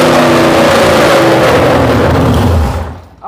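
Homemade 512ci big block Mopar engine revving hard and steady, a loud continuous roar held under sustained throttle before dropping off sharply near the end.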